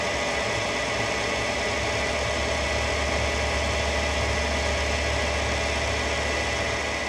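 A machine cutting 42CrMo4 steel with lubricant, giving a steady loud mechanical hum with a constant low drone and broad hiss that never lets up.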